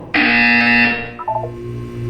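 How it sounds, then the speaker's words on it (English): A loud electronic buzzer in the video game Portal 2 blares steadily for about a second, then cuts off and gives way to a few short bleeps over a low hum. "When you hear the buzzer, look down at the floor."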